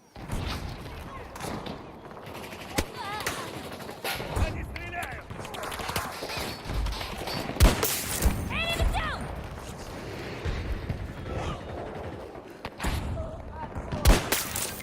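Sniper rifle shots crack in a first-person shooter video game, a few sharp loud reports scattered among other game noise, with a voice talking throughout.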